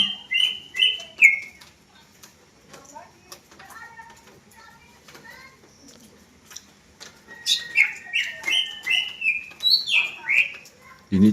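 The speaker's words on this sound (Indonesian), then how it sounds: "Ini cucak hijau body pick teman-teman" A green leafbird, a competition songbird, sings in bright, fast whistled phrases and chattering trills, loud and close at the start and end with quieter twittering between; faint background sounds but no clear talk.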